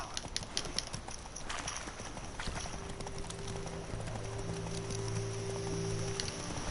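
Video game horse hooves clip-clop steadily at a trot, with a faint tonal hum rising underneath in the second half.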